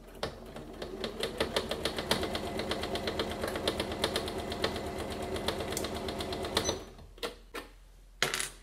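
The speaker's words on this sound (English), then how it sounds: "I line the edge of the foot up with the edge of the fabric and just sew all the way around" A sewing machine runs steady, rapid straight stitching around the edge of a patchwork star cushion, close and continuous for about seven seconds before stopping, followed by a few light mechanical clicks.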